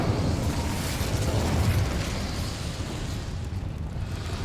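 Incendio fire spell cast in Hogwarts Legacy on Xbox, a loud continuous roaring blast of flame and rumbling effects that fills the whole stretch and eases slightly toward the end.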